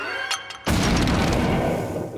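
A cartoon grenade goes off with a sudden loud, deep boom after a short quiet moment, then a dense rumbling blast that stays loud to the end.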